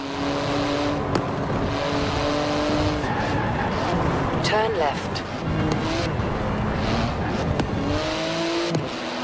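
A 3.8-litre twin-turbo flat-six carbon-fibre sports car of 700 horsepower in Forza Horizon 4 drones steadily up and down through the gears, with tire noise and a brief skid midway, while a voice speaks over it.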